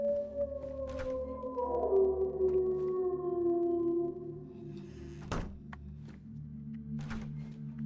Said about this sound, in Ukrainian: Що воно виє постійно?